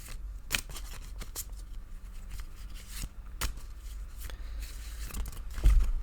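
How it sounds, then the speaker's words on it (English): A tarot card deck being shuffled, giving a series of crisp, close riffling snaps and brief paper flutters in an irregular rhythm at moderate level, with no talk. "now we begin shuffling"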